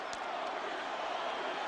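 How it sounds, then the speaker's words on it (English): Broad roar of a stadium crowd cheering an Ohio State player returning to the field during the 2002 Michigan at Ohio State college football game, a dense, sustained wash of noise heard from a distance. "he's headed back out to a tumultuous greeting from the crowd here"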